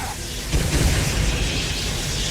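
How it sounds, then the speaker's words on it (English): A burst of missiles exploding in Neverwinter Nights 2: a deep boom swells after a brief lead-in, then rolls on as a rumbling, crackling blast wash that fades only slightly, with no talking over it. "Look at those missiles. Unlimited missiles."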